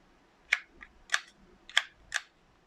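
The slide of a ZGS330 toy air gun is worked open and closed four times. Each stroke gives a sharp, close plastic click, spaced evenly against a quiet background.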